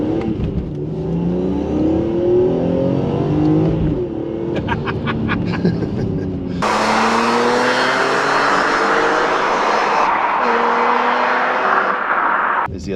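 A BMW E46 M3 CS engine revs hard under acceleration, rising through the gears with a sharp upshift midway, loud and close from inside the car.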